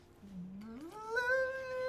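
A cat meows in a video game set in Velia Inn during a pet grooming event, one drawn-out call rising in pitch and holding steady to the end, close and clear with no talk.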